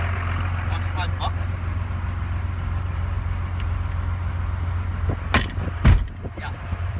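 A Ford F350 diesel pickup truck with a Cummins engine swap driving along, a steady low engine drone from inside the cab with a few brief clatters near the end, talk partly over it.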